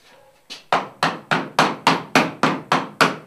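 A cobbler's hammer beats a leather shoe sole laid on a stone, giving nine sharp, evenly spaced whacks at a steady rhythm, close and loud.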